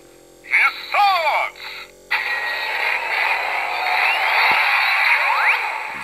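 A Kamen Rider Drive DX Drive Driver toy belt plays its Max Flare special attack effect: short synthesized voice-like bursts, then a loud sustained electronic whoosh with sweeping tones, close to the microphone.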